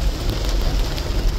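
Heavy monsoon rain pouring down in a dense, steady hiss and roar close by, constant and loud with no pauses.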